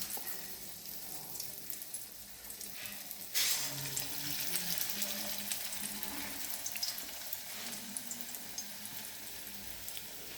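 Chicken pakora coated in gram flour batter is frying in hot oil, giving a steady hiss and sizzle that swells sharply once the pieces go in and then carries on at a quiet level.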